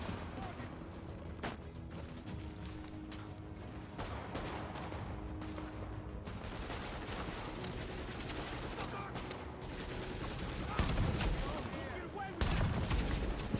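Shotgun fire aimed at a boss in a video game pops repeatedly through a dense, steady wash of game combat noise, with a couple of louder blasts near the end.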